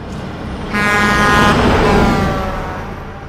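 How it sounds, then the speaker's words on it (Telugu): A bus horn blares in a tense scene from the Telugu film Arjun Reddy, a loud sustained honk starting abruptly and holding before tapering off over a dull background rumble. "ఒక వేకప్ కాల్ లాగా బస్ హారన్ వినపడి"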